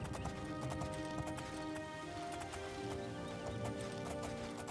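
Horse ridden in The Elder Scrolls IV: Oblivion, steady quiet clip-clop of hooves in a quick repeating gait, continuing under a soft musical background.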